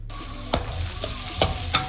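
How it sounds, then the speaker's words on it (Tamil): Chopped onions go into oil where curry leaves have already crackled, frying with a steady sizzle broken by several sharp scraping stirs spread across the clip. "கருவேப்பிலை பொரிஞ்சதும் நம்ம கட் பண்ணி வச்சுருக்க வெங்காயத்தை ஆட் பண்ணிக்கலாம்."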